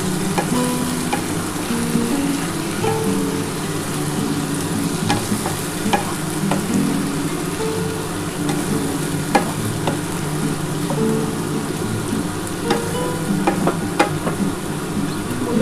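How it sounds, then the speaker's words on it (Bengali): Spice paste and ash gourd being sautéed in a pan, a continuous loud sizzle with frequent scraping and clinking of the spatula as the mixture is stirred, close up and without talking. "এবার ভালো করে মশলাটা দিয়ে কষাতে হবে"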